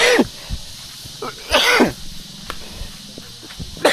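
Outdoors in a rural setting, a person coughs in several harsh, separate bursts spread over a few seconds, close to the listener, with quieter background noise in between.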